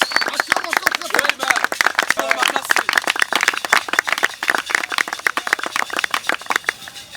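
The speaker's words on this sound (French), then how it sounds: "Acclame très fort pour le Seigneur" A church congregation clapping and cheering for the Lord, dense rapid handclaps in an irregular burst over several seconds, with voices shouting and talking mixed in.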